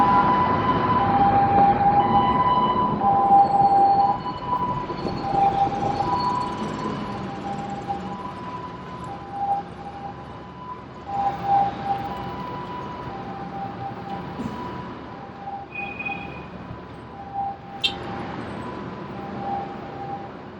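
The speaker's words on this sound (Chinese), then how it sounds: "所以经常就有救护车开过。" An ambulance siren drifts along a busy Shanghai main road near a large hospital, a steady, moderately distant wail over traffic noise that fades and returns through the stretch.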